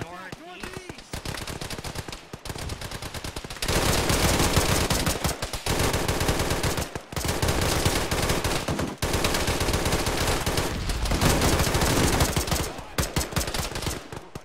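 Heavy sustained automatic gunfire in the military game Arma during a night defence of a firebase, with rapid bursts overlapping into a loud, steady barrage and brief gaps.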